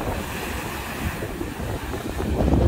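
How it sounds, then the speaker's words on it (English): Ocean surf whipped up by Hurricane Henri, a steady loud roar of breaking waves and wind buffeting the microphone, building slightly toward the end, with no voices. "waves going backwards"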